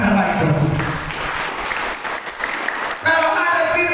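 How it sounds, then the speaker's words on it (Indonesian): Congregation applause fills a church during a revival service, loud, dense and sustained clapping that dips briefly and then swells again near the end. "Beri tepuk tangan terbaik buat Tuhan."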